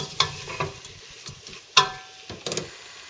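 Food is stirred in a pan over low heat for a British beef stew, with a few sharp scraping clicks of the utensil against the pan spaced irregularly over a quiet, faint background.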